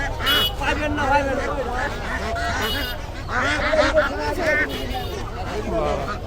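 China broiler ducks for sale at the Tongi poultry market, honking and quacking nonstop up close over a busy crowd, with people talking throughout.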